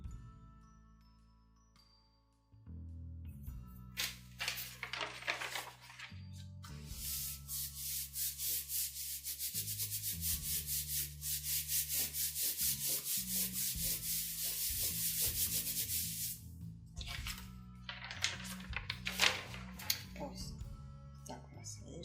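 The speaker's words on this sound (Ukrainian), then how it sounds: "намастилимо це все клеєм і приклеюємо до нашої основи" Paper being glued and pressed by hand onto a base in a papercraft workshop: steady rubbing and smoothing strokes, close and moderately loud, with a voice talking over much of it.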